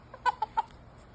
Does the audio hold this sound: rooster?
yes